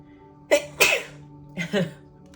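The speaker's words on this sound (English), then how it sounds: "I'm so sorry, I'm about to sneeze." Two sharp sneezes, each with a quick gasping lead-in, close and fairly loud in a quiet room.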